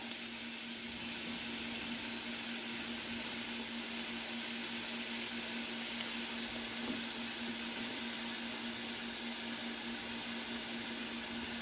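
Sausage meat with its casing removed sizzles in a pan as it is broken up for a lasagna, a steady, even frying hiss with a faint tonal hum underneath, continuous and fairly quiet.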